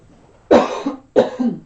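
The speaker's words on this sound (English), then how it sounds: "I always cough when I talk a lot." Two sharp coughs, about half a second apart, close and fairly loud in a quiet room.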